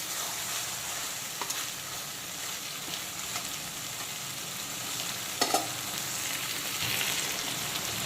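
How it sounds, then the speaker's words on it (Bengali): Ridge gourd sautéing in a wok for a rohu fish curry with ginger and cumin paste, a steady close sizzle and fry with occasional scraping stirs, no talk. "এখন কিন্তু প্রায় 3-4 মিনিট সময় নিয়ে ঝিঙেগুলোকে কষিয়ে নিয়েছি খুব সুন্দর করে।"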